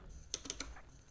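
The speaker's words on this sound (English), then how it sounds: "Type the next command:" Computer keyboard typing a command, a quick cluster of about four soft, close key clicks in a quiet room.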